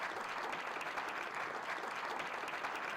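Steady, dense applause from an audience at a panel discussion on AI and finance, a sustained wash of many hands clapping at even loudness from start to finish with no talking.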